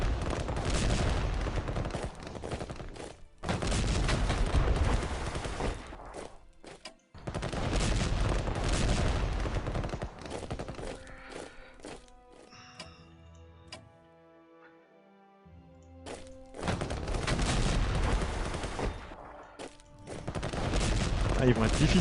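Assault gunfire in the Strategic Command WWI strategy game: dense, loud bursts of rattling battle fire in long stretches, broken by a quieter passage of ticking, clicking game sounds before the barrage returns.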